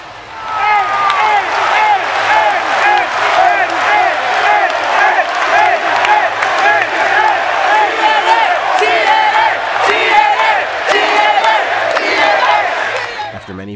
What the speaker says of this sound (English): the audience at Wayne State University was loud and proud